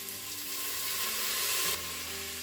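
Pork frying with sugar and soy sauce in a Crockpot Express, a soft continuous sizzle close by under a faint steady hum, easing off slightly near the end.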